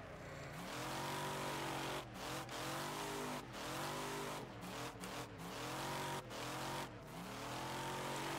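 A car drifts in Wreckfest with the DriftFest mod, its engine revving hard and steadily under constant throttle. Pitch sweeps rise and fall repeatedly as the revs climb and drop, and a few brief gaps mark quick lifts off the throttle.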